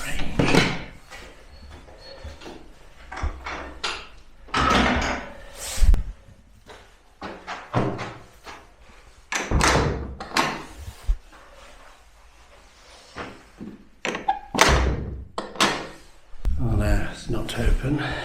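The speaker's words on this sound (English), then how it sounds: "Oh, the outside door's open." The outside door of an isolated country church is tried and rattled, giving irregular knocks and clattering bursts, close and fairly loud, alongside a person's talk.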